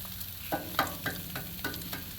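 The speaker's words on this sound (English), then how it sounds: "I guess I'm going to put my third egg right in that area there" An egg fries on a Blackstone griddle set to low heat, with a soft, steady sizzle broken by about half a dozen light crackling pops. The sound is close, and no one speaks.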